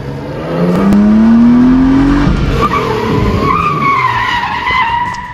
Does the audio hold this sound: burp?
no